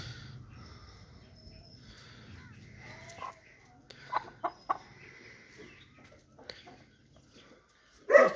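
A breeding hen of a fighting breed gives a few soft, scattered clucks at close range, with a louder squawk right at the end.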